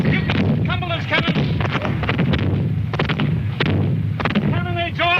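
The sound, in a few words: cannon fire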